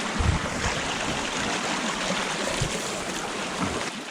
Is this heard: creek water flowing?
yes